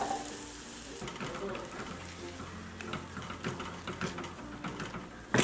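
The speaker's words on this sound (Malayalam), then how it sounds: "ഇനി ഞാൻ ഇതിലേക്ക് ഈ മിക്സിയുടെ ജാറിൽ ഒരു 1/4 കപ്പ് വെള്ളം എടുത്തത് ഇതിലേക്ക് ഒഴിച്ചു കൊടുക്കാം." Water poured into a hot pan of spicy coconut-free Kerala fish curry masala sets off a steady, hissing sizzle with faint stirring clatter, sustained and fairly quiet at close range.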